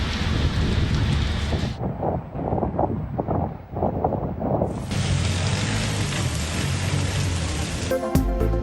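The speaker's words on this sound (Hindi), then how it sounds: "बादल आए, बिजली कड़की, बारिश बरसी।" Heavy rain pours steadily during a storm in Punjab, with wind buffeting the microphone and a brief quieter lull, then a loud full-band roar of rain returns.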